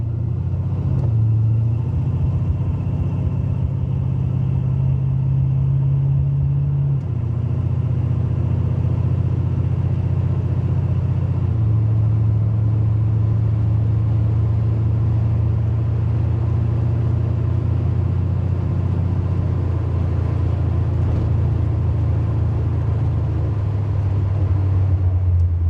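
A 1986 big block Buick Regal Limited engine runs while driving, in need of a retune, with a loud, steady low rumble whose pitch shifts in several steps as speed changes, heard continuously up close.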